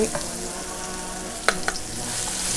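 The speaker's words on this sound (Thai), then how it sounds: "จากนั้นเราก็เอาน้ำมันพืชใส่ลงไปนิดหน่อย ตามด้วยกระเทียมกับพริกขี้หนูที่เราเตรียมไว้" Garlic and bird's eye chilies fry in a little vegetable oil with a steady close sizzle. A couple of sharp clinks from a utensil break through it, and no one speaks.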